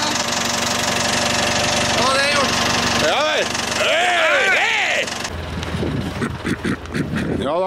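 Diesel engine of a Volvo BM-642 backhoe loader running after a cold start, a steady loud drone with wind buffeting the microphone and voices talking over it, rising and falling before settling lower.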